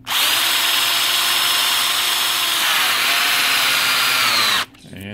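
A power drill spins an engine's oil pump to prime it and build oil pressure, a loud steady high-pitched whine that holds for several seconds, drops slightly in pitch as it bogs under load, then cuts off abruptly.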